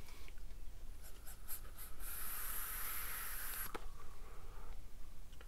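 A soft, close hiss of lemon e-liquid vaporizing on a single 0.55 ohm coil in a Magma RDA, rising into a steady sizzle for a couple of seconds among quiet faint crackles.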